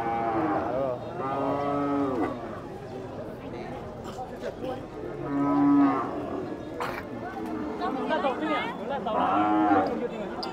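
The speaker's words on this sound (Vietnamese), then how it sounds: "Chợ hôm nay chợ ít bò cái nhỉ." Cattle at a rural Vietnamese livestock market give three long, drawn-out moos spaced several seconds apart. People talk nearby over the background noise of the market.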